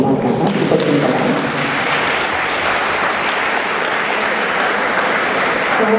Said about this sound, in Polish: Wielkie brawa dla Was i podziękowania.